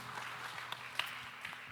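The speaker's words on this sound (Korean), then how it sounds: "박수로 서로의 삶을 응원하며 축복합니다" A church congregation at a Sunday young adults' worship service applauds together, with faint, distant, steady clapping and a few sharper claps standing out.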